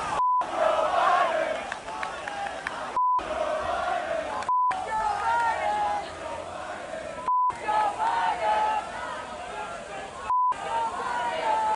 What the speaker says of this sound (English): These are two different crowds all yelling F Joe Biden all at the same time, or at least a call and response between each other